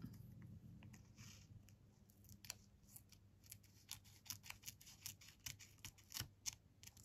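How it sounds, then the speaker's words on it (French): Scissors snip through washi tape for a handmade card, making a series of close, crisp cuts that start sparse and quicken into rapid clusters toward the end, with no talking. "Alors, je vais couper au plus gros."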